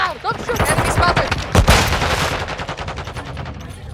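Loud video game gunfire rips through in close rapid automatic bursts that continue almost without pause, with brief voices mixed in near the start.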